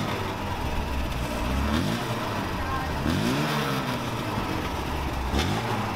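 A Fiat 125 sedan accelerates around a roundabout in Macerata, its mid-pitched engine rising and falling through several rev sweeps, close and fairly loud over steady road noise.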